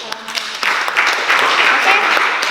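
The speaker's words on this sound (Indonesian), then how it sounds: "Kita berikan aplaus untuk kelompok." Students in a school classroom applaud a presenting group, a burst of many hands clapping that swells after a brief pause and holds steady, close and loud, with voices mixed in.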